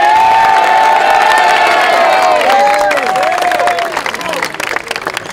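Basketball players gathered in a gym at tryouts cheer and shout loudly, with whoops and rising voices blending into clapping that grows denser as the yells fade; loud and close.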